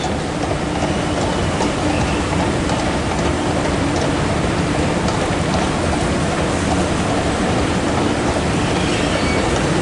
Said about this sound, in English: so I'm going to be taking a train to the